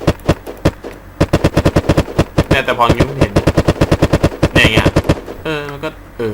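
Rapid bursts of gunfire from the video game Unturned 3.0 rattle out in quick succession, loud and close, with someone talking excitedly over and between the shots.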